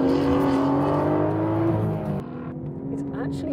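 An Aston Martin engine pulls hard on a track, its note rising loudly under acceleration before a brief gear change around two seconds in, then climbing again.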